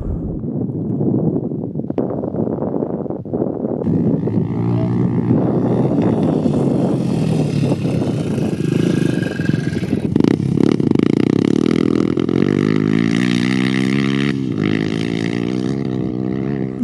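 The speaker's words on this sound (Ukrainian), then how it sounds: "тут зненацька вилітає мотоцикл прямо на вас" A motorcycle revs on a mountain trail in the Carpathians, its engine loud and close. The engine note rises and shifts as the bike passes by at speed.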